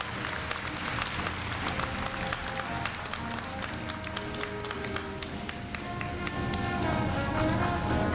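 An audience at a Korea University entrance ceremony for new students applauds in a large hall, a broad sustained clapping that holds steady and swells slightly toward the end, with music playing underneath.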